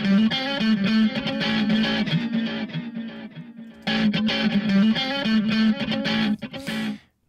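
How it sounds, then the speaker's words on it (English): A distorted, effects-laden musical phrase runs through the iZotope Trash 2 plugin with a big delay, loud and dense, briefly thinning before the repeats return and then cutting off abruptly at the end. "We can put some really big delays on."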